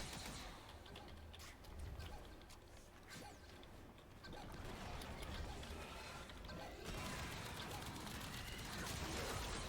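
Bursts of automatic fire from the Tenet Tetra assault rifle in the shooter game Warframe, continuous and rattling across the stretch with a steady roar of game effects and a voice talking over it.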